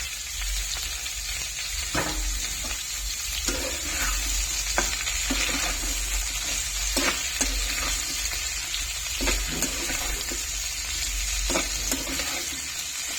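Curry leaves frying in a pan of oil for a tomato curry, a steady hiss of sizzling with occasional crackles and stirring scrapes, close and continuous.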